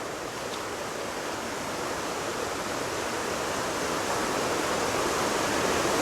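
Water from North Chickamauga Creek rushes among huge boulders in a gorge, a steady, full broadband roar that swells slightly louder toward the end, with no voices.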